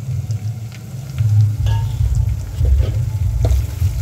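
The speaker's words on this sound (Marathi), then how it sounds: "मी यालाही 2 मिनटं परतून घ्यायचं." Dry spices (chili powder, salt, turmeric, goda masala, cumin and coriander powder) are sautéed in a pan for Maharashtrian masale bhat, making low rumbling frying noise with intermittent scraping clicks that swell partway through, with no voices.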